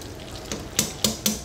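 Food frying in a pan at home for dinner: a quiet background sizzle with three or four sharp spitting pops close together near the end.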